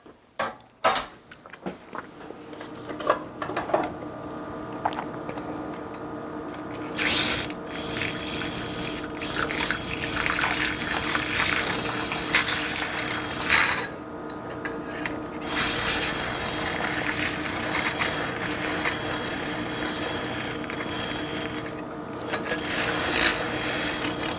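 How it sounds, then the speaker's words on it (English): Whisk beating a meatloaf mixture in a bowl, a steady scraping, clicking churn that runs almost nonstop for about twenty seconds after a few hesitant starts, close and moderately loud. "let me whisk that in now."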